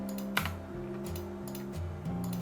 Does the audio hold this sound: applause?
no